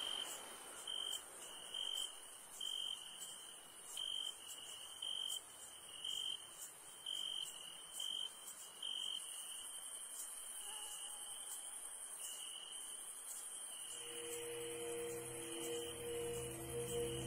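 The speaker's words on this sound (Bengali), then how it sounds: "ঝিঝি পোকার ডাকে কানে তালা" Crickets chirp loudly at night in a rural village setting, a dense high-pitched trill pulsing in regular bursts. It later shifts to a steadier drone as a low hum joins in.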